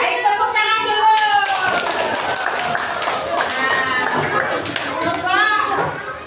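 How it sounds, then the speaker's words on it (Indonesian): Fourth-grade schoolchildren in a classroom clapping together, quick rhythmic claps mixed with lively children's voices and chatter, close and loud. "Ayo tepuk tangan dulu."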